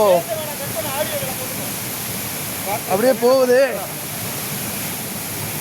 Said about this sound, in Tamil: மேலே வந்து ஃபால்ஸ் இருக்கு தண்ணி கொட்டிக்கிட்டே இருக்கு